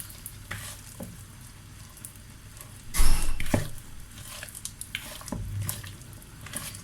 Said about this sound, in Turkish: Burada da elmam kavruluyor.